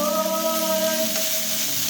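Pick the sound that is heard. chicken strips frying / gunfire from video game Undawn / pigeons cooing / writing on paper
chicken strips frying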